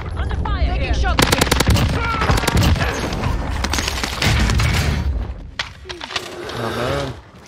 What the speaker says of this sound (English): Under fire. Taking shots.